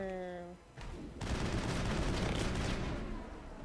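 Sustained burst of video game gunfire from the sci-fi shooter Mass Effect during the Eden Prime fight with the Geth, dense rapid shots building after a brief voice at the start.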